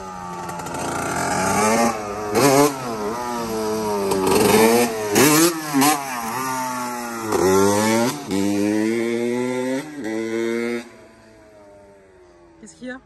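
A motorcycle engine revs repeatedly in rising, falling whines, loud and close, with short bursts and pauses between throttle blips.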